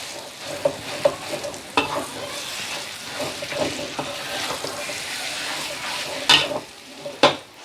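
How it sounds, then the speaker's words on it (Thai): Pounded pork is stir-fried in oil that has turned yellow, for a Thai minced-pork chili dip. A continuous crackling sizzle runs throughout, punctuated by sharp spatula clacks against the pan, most prominently near the end. "พอน้ำมันเริ่มเหลืองปุ๊บ เราก็จะเอาหมู ที่โขกไว้ มาผัด"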